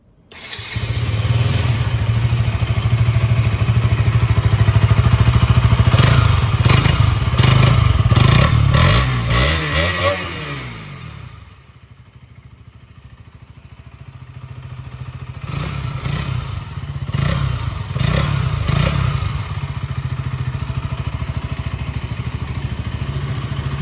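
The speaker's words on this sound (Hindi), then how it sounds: "एक बार इस बाइक के एग्जॉस्ट नोट को सुन के देखते हैं" A KTM Duke 200 motorcycle engine rumbles close by, revving up and down with sharp throttle blips, dropping to a quieter idle before revving again.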